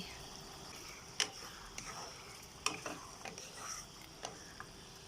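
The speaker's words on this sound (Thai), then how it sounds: "เคี่ยวน้ำตาลเคี่ยวซอสทุกอย่างเข้ากันอะ" Sugar and soy sauce simmering for soy-braised pork belly, a faint low bubbling sizzle broken by a few sharp utensil clacks and scrapes against the pan as it is stirred.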